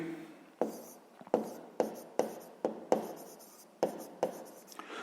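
A pen taps and scratches on paper during a sixth-grade math lesson, about a dozen quick strokes close by, each starting with a sharp tick and trailing off.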